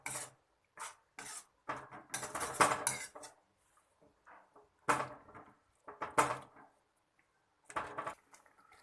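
A spoon scrapes and clinks in a pan while fresh cream is stirred into palak paneer, coming as short intermittent bursts of stirring with quiet gaps between them.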